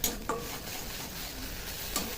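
Prawn heads fry in hot oil in a pan with a steady, even sizzle and a few soft scraping stirs.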